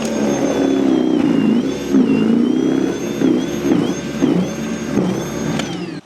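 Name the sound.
battery-powered snow blower throwing snow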